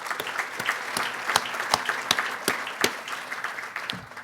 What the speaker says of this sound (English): join me in a round of applause for him